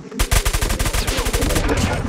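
Rapid, loud automatic gunfire from a shooter video game, a dense rattling burst of closely spaced shots running the whole time with no pause.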